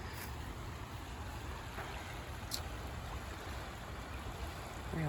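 Water of a park stream flowing along a calmer, softened stretch, a faint steady wash with low rumble and no voices.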